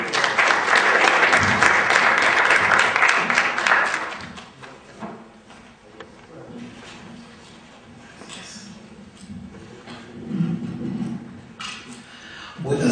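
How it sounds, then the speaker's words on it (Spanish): Audience applause welcoming Dr. José García Falconí to the podium at a legal lecture on the judicial code, loud and dense for about four seconds, then fading into a murmuring hall with shuffling and a few thumps. "Con el aplauso de ustedes recibimos por favor al doctor José García Falcón."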